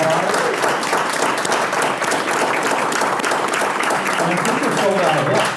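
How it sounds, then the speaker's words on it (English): An audience applauds loudly and steadily for several seconds at the end of a presentation, with voices talking over the clapping. "Ladies and gentlemen, a round of applause"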